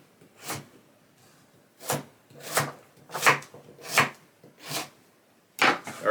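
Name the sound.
knife chopping a beet into cubes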